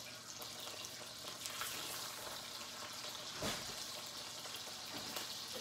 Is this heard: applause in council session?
no